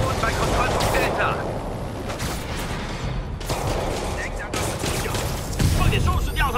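Heavy gunfire in Marvel's Spider-Man on PS4 Pro, a dense rattling fusillade with sharp bursts and booming impacts throughout, loud and continuous, with a radio-style voice speaking partly underneath.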